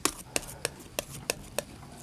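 A palette knife taps and scrapes on a palette while mixing blue and white oil paint into a shadow color, with six sharp, evenly spaced clicks over a soft steady scraping.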